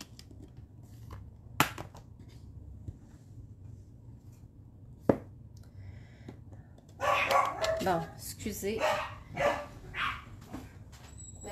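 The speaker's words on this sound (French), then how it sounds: "Donc là, ça fait japper mes chiens." Dogs start barking in a home after a few sharp knocks, with a cluster of loud barks and yips near the end and a brief spoken apology.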